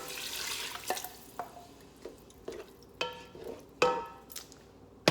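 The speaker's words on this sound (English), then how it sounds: "Okay, I'm gonna pour in my vegetable broth" Vegetable broth splashes into a pan of fried onion in short pours and drips, a series of soft liquid bursts and clinks spaced about a second apart.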